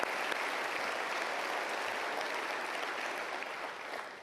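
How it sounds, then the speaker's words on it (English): At a 2018 Oregon sports awards ceremony, an audience gives scholarship winners a steady, even round of applause, dense clapping heard from a distance that holds and then eases slightly toward the end. "Let's give them one more round of applause here."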